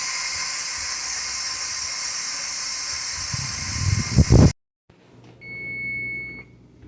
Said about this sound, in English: my timer's going off on my second batch